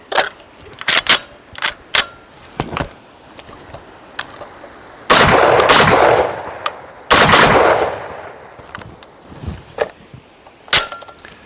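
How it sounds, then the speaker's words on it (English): An FAL rifle fires rounds at a target 15 meters away on a range, loud sharp shots in spaced groups with a couple of longer, heavier reverberating blasts, close and dominant. "these are my 4 rounds that I fired"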